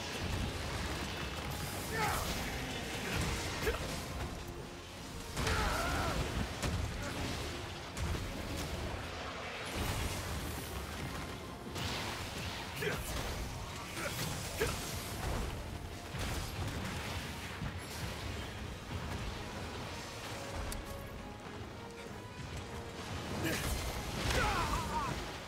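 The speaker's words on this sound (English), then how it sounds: "Different explosion pattern." Explosions from a dragon boss fight in a video game, a dense stream of blasts, crashes and mechanical clatter that runs loud throughout under game music, with no pause.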